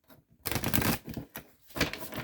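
A tarot deck is shuffled by hand in a few quick riffling bursts separated by short pauses, close and fairly quiet.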